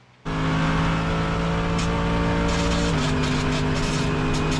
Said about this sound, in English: Welcome aboard my Mercedes AMG GT3 car for a lap of Phillip Island